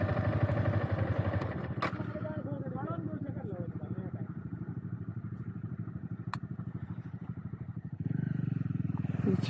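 A Kawasaki Z900 motorcycle engine drones steadily during a wheelie ride, then swells louder near the end, with people talking over it.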